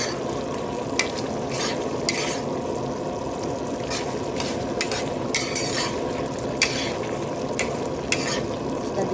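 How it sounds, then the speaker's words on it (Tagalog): Chicken sautéing with tomato in a pan, a continuous close sizzle with short scraping stirs of a utensil scattered throughout, no talking. "Ginisa natin sa kamatis yung ating chicken"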